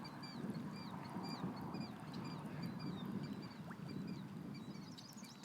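Ducks on a creek, quacking repeatedly at a distance over a steady background hiss, with no talking.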